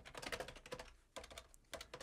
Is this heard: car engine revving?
no